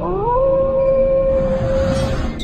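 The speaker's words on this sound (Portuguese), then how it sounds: "Atente-se com uivos." A single long animal howl rises and holds steady for a couple of seconds, fairly loud and alone over a low rumbling background.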